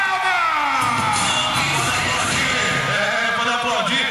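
A crowd at a bull-riding rodeo final in Mandaguaçu cheers and applauds, a dense, loud wash of voices and clapping sustained throughout, with a voice over the top.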